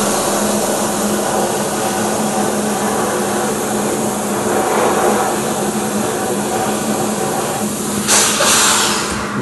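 A steel shot blast cabinet fires fine stainless steel shot at engine valves, producing a constant loud, rushing hiss with a brief sharper burst near the end.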